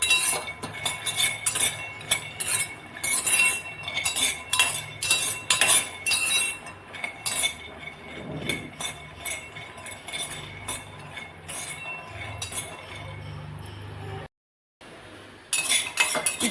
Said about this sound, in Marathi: आपण इथे शेंगदाणे टाकलेले आहेत हे सुद्धा आपण व्यवस्थित असे भाजून घेणार आहोत